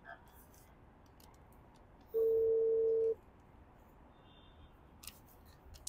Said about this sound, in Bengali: তো আমি এখন মালিককে ফোন করে দেখি কি বলে।